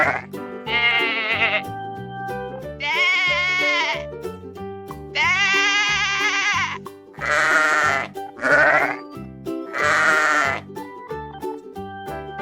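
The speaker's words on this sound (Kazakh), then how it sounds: "Қой." Sheep bleat repeatedly, six wavering calls spaced a second or two apart, loud and near, over a soft continuous music bed.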